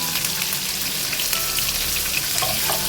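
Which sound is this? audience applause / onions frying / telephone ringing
onions frying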